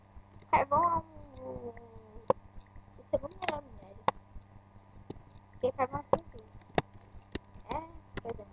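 A cat meows several times inside a Minecraft-style farming game, short rising and falling cries spread across the stretch with faint clicks between them, fairly close and clear.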